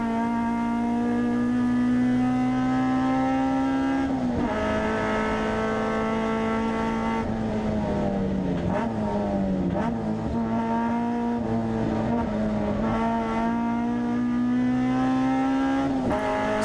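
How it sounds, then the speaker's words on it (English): A Honda Civic EK9 race car racing at Castle Combe in a hot hatch race, a loud, steady onboard engine drone that rises and falls in pitch through gear changes and corners, with no talk. "So at this point in the race, I'm trying to catch Tony Cooper in his 106 GTI"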